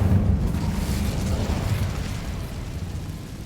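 The Incendio fire spell in Hogwarts Legacy goes off as a loud, close, roaring blast of flame. It swells at once and rumbles away over a few seconds.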